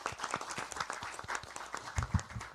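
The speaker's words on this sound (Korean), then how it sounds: "큰 박수로 모시겠습니다." A crowd at a political party event applauds to welcome a floor leader, fast overlapping claps from many hands with a few louder nearby claps and some low thumps toward the end.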